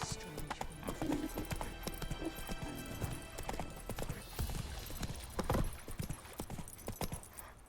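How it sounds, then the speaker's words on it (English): Hooves of the horse Roach clip-clop in a quick steady rhythm in The Witcher 3: Wild Hunt, close and continuous, with faint ambient game sound around them. "That's it, Roach"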